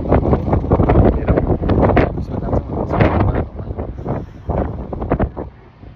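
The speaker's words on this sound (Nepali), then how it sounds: "यस्तो डेन्जर हावा लागिरहेको छ होइन" Strong wind gusting at a lake, buffeting the microphone in loud, uneven roaring bursts that ease off toward the end.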